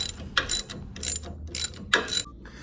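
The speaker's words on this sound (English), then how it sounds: "Make sure you have a ratchet wrench. Makes life a lot easier." Close, crisp clicking of a ratchet wrench loosening strut bolts on a Chevrolet Colorado ZR2, about five quick bursts of rapid pawl clicks in a steady back-and-forth rhythm.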